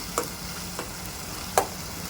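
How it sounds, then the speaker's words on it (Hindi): Boiled chopped spinach stirred into egg masala in a pan, a soft steady sizzle with a few light scraping ticks of the spoon, quiet and without talk. "जो पालक कट करके रखे थे वो भी डाल देंगे हम, बॉईल करी हुई पालक है ये"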